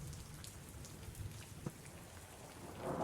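Steady rain pouring down on the docks during a storm, a continuous broadband wash with scattered drop impacts and a faint low rumble, swelling slightly louder at the end.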